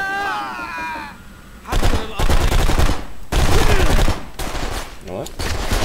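Loud, close gunfire in the video game Blacksite: Area 51, with repeated bursts of rapid automatic shots and a voice calling out over the shooting.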